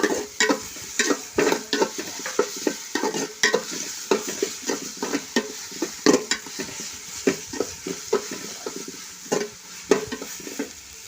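Crushed garlic stirred and fried in a pan for biryani, loud, close, rhythmic scrapes and clinks of a spoon against the pan over a continuous sizzle.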